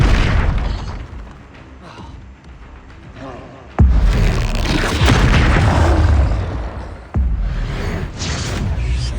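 Spell explosions from Confringo in a Harry Potter video game: sharp booming blasts at a few seconds apart, each a sudden loud hit trailing into rumbling crackle, close and heavy.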